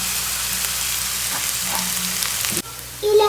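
Green chillies frying in hot oil in a pan, a steady close sizzle that holds throughout, with a brief dip near the end before it flares up again.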